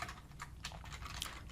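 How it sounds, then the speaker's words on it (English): Typing on a computer keyboard while writing a simple HTML test page in a Python programming lesson: a quick, fairly soft run of clustered key clicks with no voices. "just try to follow along with what I'm typing here"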